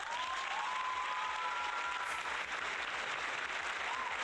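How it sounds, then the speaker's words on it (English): Steady, dense crowd applause from a Minecraft livestream, heard alone at an even level with a couple of faint whistle-like tones drifting over it. "Can we give Captain a round of applause here?"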